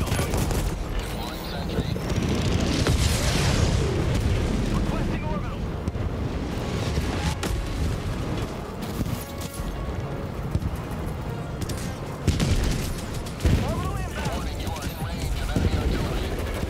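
Dense, continuous blasting from a Rocket Sentry firing rockets at bots in Helldivers 2, a steady roar of explosions and launches with sharper bangs toward the end, players talking over it throughout.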